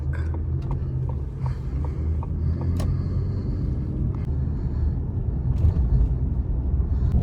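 A car drives along a road, a steady low engine and tyre rumble heard from inside, with a few light clicks and ticks scattered over the continuous drone.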